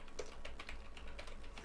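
Keys tapped on a computer keyboard in quick, irregular clicks, close and fairly quiet over a low steady hum, with no one speaking.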